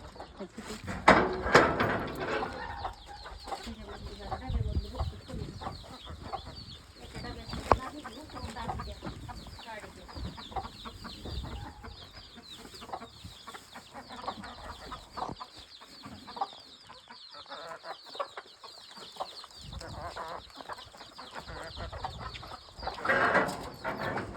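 Domestic chickens clucking around a hen set on eggs, scattered soft clucks and rustling close by, with occasional louder bursts among quieter stretches and faint background noise.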